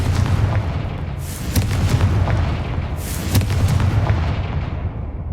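Confringo explosive spell blasts in Hogwarts Legacy, two heavy booming bursts with crackling tails over a rumbling low background, loud and close.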